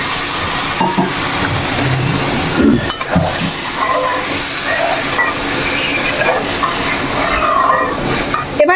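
Water poured into a hot kadai of carp masala sets off a loud, continuous hiss of steam and bubbling that fills the whole stretch, close and steady with faint clatters underneath.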